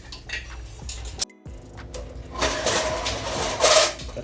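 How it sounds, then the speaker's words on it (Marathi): A pressure cooker is set onto a gas stove with metallic clanks and knocks, then a roaring burner flame swells beneath it, close and fairly loud. "तर आता आपण लावत आहे आपला कुकर."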